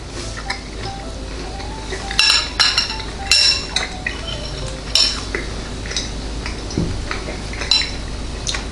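Metal cutlery cuts through a pecan pie on a plate, with scattered sharp clinks and scrapes, some in quick bunches, over a quiet steady background.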